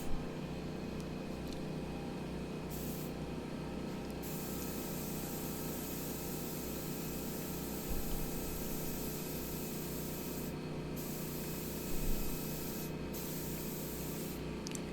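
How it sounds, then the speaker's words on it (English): A spray gun sprays primer onto a dresser, a steady hiss running continuously under a constant mechanical hum, with a few brief bursts of stronger spraying near the end. "Instead of spraying 2 and 3 primer coats, you're just spraying one"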